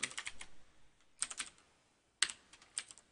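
Code being typed on a computer keyboard. Three quick bursts of close, crisp key clicks come in rapid runs, separated by short pauses, quiet and alone.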